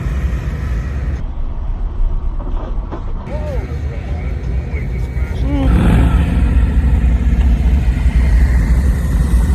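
The engine of a Harley motor trike with a tilting setup rumbles as it drives back toward the listener, a low mid-pitched drone that grows louder over the last seconds, with people talking over it.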